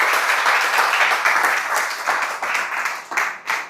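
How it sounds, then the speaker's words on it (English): A small-town political meet-and-greet audience applauds a congressional candidate, dense steady clapping from a crowd close by that holds for a few seconds and thins slightly near the end. "Can I get a big round of applause for Mr."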